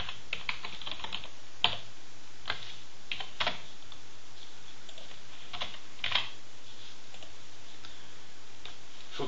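Typing on a computer keyboard: irregular clusters of soft key clicks with occasional sharper, louder strikes, close and alone against a faint steady hum.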